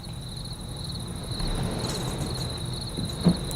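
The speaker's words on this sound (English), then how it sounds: "Not cliched at all, cricket sounds at night." Crickets chirp at night in Bus Simulator 18, a steady high trill running the whole time over a low rumbling bus engine, with a brief bump near the end.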